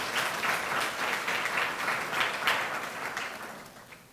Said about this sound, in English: so if you all give her a round of applause for her contributions